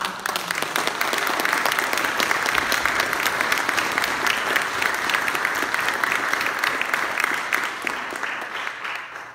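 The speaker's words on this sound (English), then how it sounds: "Can we give a round of applause to our candidates for their contributions?" Audience applause for the candidates at a state assembly debate at SUNY Canton: a full, sustained round of dense clapping filling the hall at an even level before easing off at the end.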